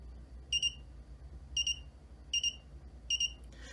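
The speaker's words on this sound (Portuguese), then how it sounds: "Eu vou diminuir o threshold para que o Arduino ele trigue o alarme de temperatura" An Arduino high-temperature alarm gives four short, evenly spaced electronic beep bursts, each a quick double chirp, fairly faint over a low steady hum with no talking.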